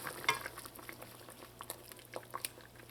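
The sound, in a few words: Saheena pieces frying in curry pan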